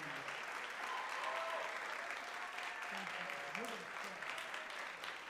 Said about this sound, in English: One more round of applause, please.